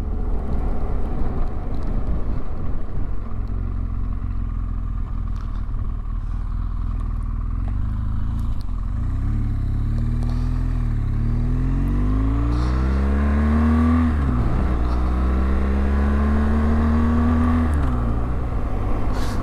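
A motorcycle ridden along a coastal road toward Mullaghmore Head near Sligo, on Ireland's west coast; its loud, close engine hums steadily, then revs and climbs in pitch through a turn and acceleration.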